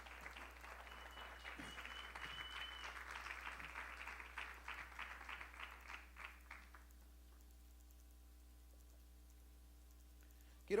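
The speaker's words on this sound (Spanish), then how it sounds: "Denle una ofrenda al Señor de palmas en esta noche." A congregation at an evening church service claps together, faint and somewhat distant, the patter staying steady for several seconds before thinning and dying away, leaving near silence.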